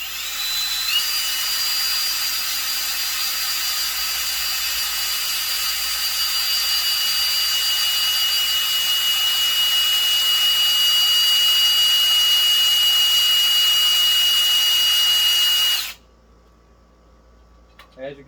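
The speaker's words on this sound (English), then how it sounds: "now if I spin this drill, this is still on low speed" A power drill on low speed whines steadily at a constant pitch for about fifteen seconds, spinning the oil pump of a Mopar 318 engine, then cuts off abruptly, leaving quiet background noise.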